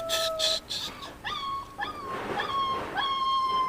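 A dog whimpering and crying in a series of high, wavering whines and short yelps, fairly close and moderately loud, with faint background noise.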